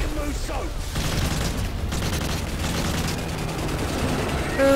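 AK rifle fire in the Modern Warfare 3 campaign rattles in dense, continuous bursts mixed with explosions and mechanical clatter, loud and close, with a voice talking over the gameplay.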